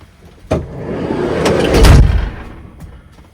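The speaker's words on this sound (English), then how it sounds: "if I close the door" A van's door swings shut with a solid low thump, followed by a brief muffled rumble as outside traffic noise drops away in the self-built camper's insulated interior.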